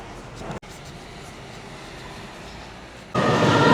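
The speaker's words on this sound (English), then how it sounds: "That's where we pick up the tram and take it from there." A low, steady rumble of a tram in Christchurch, New Zealand rolls along, swelling into a louder, rushing roar near the end.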